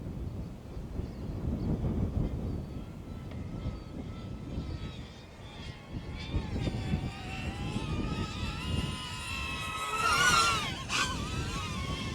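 A DJI drone flies in strong wind, its propellers giving a rising, whining buzz over heavy gusty wind rumble, building to a louder surge of prop wash near the end; no talk is heard.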